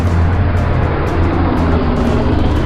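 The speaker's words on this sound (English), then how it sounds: "All this noisy traffic." Road traffic near a bridge over the Mississippi River, a loud continuous roar of passing vehicles close by with a low engine rumble and steady tire hiss, no talk over it.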